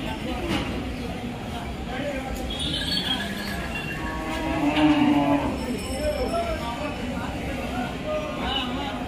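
Bulls at a livestock market in Dhule, with lowing and moos rising over a dense crowd din and continuous chatter throughout.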